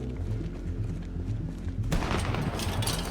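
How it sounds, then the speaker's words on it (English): A sharp gunshot cracks out partway through in Project Zomboid, followed by a burst of noisy, reverberant game ambience over a steady low rumble. "And of course we get a gunshot now."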